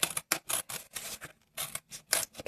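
Scissors cut around craft paper while making the holder of a flower bouquet, a series of about ten quick crisp snips in an uneven rhythm, close and clear with no talk.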